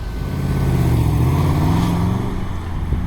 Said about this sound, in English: Alright, so we're on the road. 2006 Pontiac GTO.